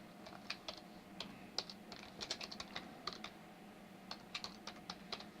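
Fingers tap on a computer keyboard during 3D hair modelling work in Maya, with irregular clusters of light, close key clicks over a low steady hum.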